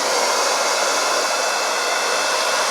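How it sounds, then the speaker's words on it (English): A blow dryer on a warm setting runs steadily while drying hair, a loud, even, continuous whoosh with no break and no talk. "take your blow dryer on a warm setting and dry it"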